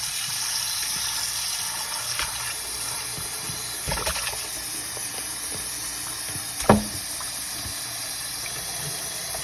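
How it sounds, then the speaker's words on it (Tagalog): Chicken wings being rinsed under running water before marinating for adobo, a steady close hiss of the flowing tap with a couple of brief clattering knocks in the sink. "Hugasan muna natin yung wings bago natin i-marinate siya."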